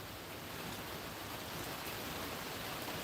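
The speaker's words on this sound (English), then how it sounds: "Love the sound of rain." Steady rain at a desert homestead, a dense, even hiss of drops that stays constant and fairly loud throughout, with no voices.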